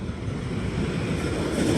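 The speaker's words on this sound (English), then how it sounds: "Got some tiny little timberliner trains." Small Timberliner trains at an amusement park rumble past as a steady, dense mechanical roar with rattling wheels, loud and close throughout.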